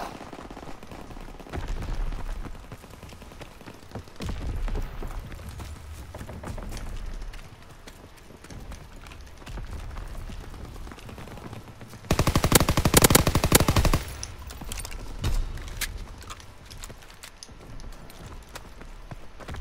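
Gunfire in the video game Call of Duty WWII during a team deathmatch, with bursts of shots scattered throughout and a loud, dense stretch of rapid machine-gun fire near the middle, the rest quieter and intermittent.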